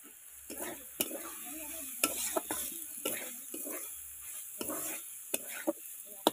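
Potatoes and masala being stir-fried in a pan, with a steady sizzle and repeated scraping, clattering strokes of a spoon against the pan at an uneven rhythm, close and fairly loud.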